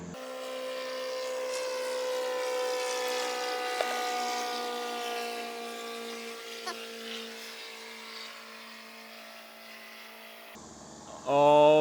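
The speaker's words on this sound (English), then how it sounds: "there's going to be a plane that goes by" A banner plane flies overhead near a beach archery range, its propeller engine droning steadily and loudly for several seconds before fading, with a brief burst of other noise at the very end.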